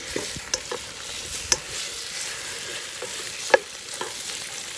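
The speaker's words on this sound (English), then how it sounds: "already you can hear it start to sizzle a little bit" Raccoon fat sizzles and crackles steadily as it renders in a pan over a flame, with occasional sharp pops and light scraping, close up and continuous.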